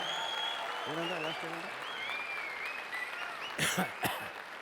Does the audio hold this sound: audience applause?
yes